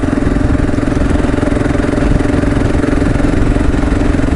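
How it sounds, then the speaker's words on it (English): A Kawasaki KLR motorcycle on a road commute: its engine drones loud and close, a steady, even thrum with constant wind roar and no letup. "we get to ride the bike"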